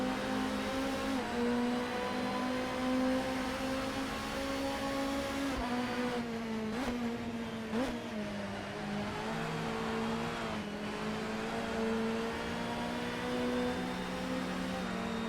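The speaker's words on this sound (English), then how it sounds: "turn the volume all the way up to hear that incredible engine sing down the straights" A Nissan Primera touring car engine in the racing game Assetto Corsa holds a steady high drone, its pitch dipping and climbing briefly with shifts, loud and continuous throughout.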